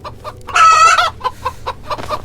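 A video-game chicken clucks in quick repeated bursts, with one louder squawk rising above the steady clucks, close and clear.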